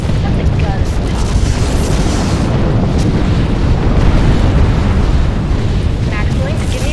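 Heavy capital ship guns firing in the Halo-based space strategy game Sins of the Prophets, a continuous rumbling roar of booming blasts and explosions with no pauses, loud and dense throughout.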